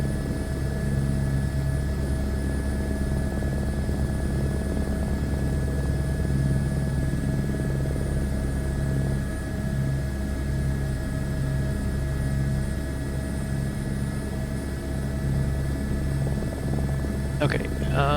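A helicopter flying in Microsoft Flight Simulator 2024 gives a steady, continuous rotor and engine drone at high altitude, holding level throughout with a few brief clicks near the end.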